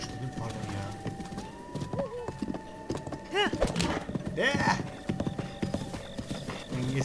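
A horse in Zelda Breath of the Wild, with steady clip-clop hoofbeats and whinny-like calls under continuous game music and someone talking over it.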